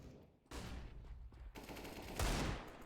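Bursts of gunfire in Counter-Strike during a competitive match, a sharp shot opening near the half-second mark, another at about 1.5 s and a louder, heavier blast late, ringing over a steady game background.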